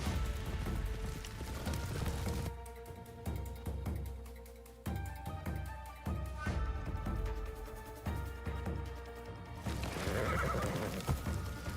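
Repeated horse whinnies and snorts ring out over steady clip-clopping hooves, loud and near, with a bright musical tone behind them, from the video game Assassin's Creed Shadows.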